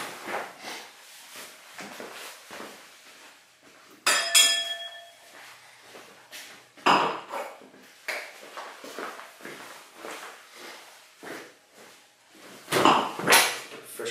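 A wine glass clinks with a bright ringing ping as a fresh glass is set out on a table for tasting, followed by a few softer knocks and taps.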